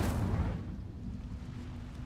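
A fire spell cast in Hogwarts Legacy bursts out as a single whooshing, rumbling blast that fades into a low steady roar over a couple of seconds, close and moderately loud, with no talking.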